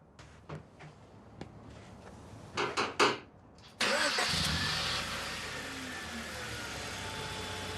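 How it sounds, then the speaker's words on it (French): A few clicks and knocks, then a car engine cranks and catches, settling into a steady idle that continues to the end. "Vas-y, démarre le moteur."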